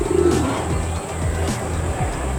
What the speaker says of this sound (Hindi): ये पूरा कबूतर है।